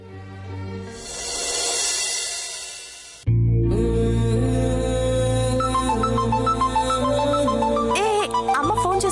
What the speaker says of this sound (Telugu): అమ్మ ఫోన్ చేస్తుంది, ఒక నిమిషం ఆపు.